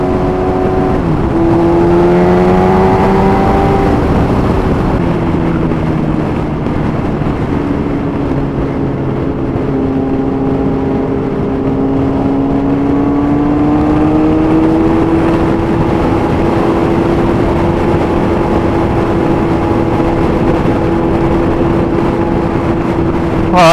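Group of motorbikes riding along a road, heard as steady, loud engine drone with gliding tones rising and falling as the bikes roll along together, continuous throughout.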